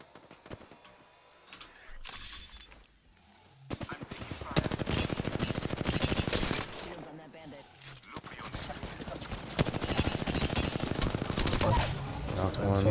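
Rapid automatic gunfire from the first-person shooter Apex Legends comes in dense bursts over several seconds, mixed with game effects and players talking.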